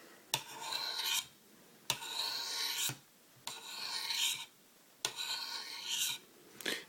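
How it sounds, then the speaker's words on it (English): A chisel-grind knife blade on a Micro Commander is drawn across a sharpening stone in four long rasping strokes, each about a second long, separated by short pauses, close and clear with no talking. "there's some things on chisel grind sharpening"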